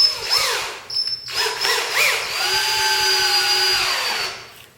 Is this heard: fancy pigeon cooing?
no